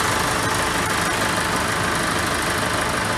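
A farm tractor idles steadily while being refuelled, its engine a constant, dense rumble with slight knocking that fills the whole stretch without any voices.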